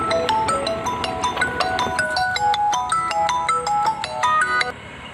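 A melodic electronic phone ringtone plays steadily, its bright repeating tones looping without pause, loud and close, then cutting off near the end.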